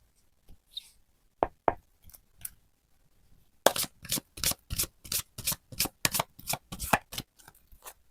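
Tarot cards are shuffled and handled on a table, a few scattered soft slaps and rubs followed by a long run of fast, rhythmic riffling snaps, close and fairly quiet with no talking.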